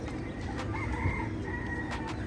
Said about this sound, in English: You hear that? You hear the chicken?